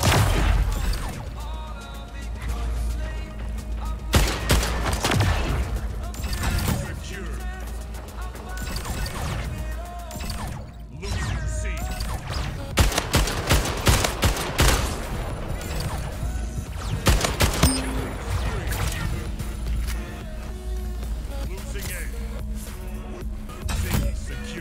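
Carbine fire in the arena shooter Splitgate, with sharp repeated shots and clanking mechanical impacts mixed into busy game noise, fairly close and continuous over a low background hum.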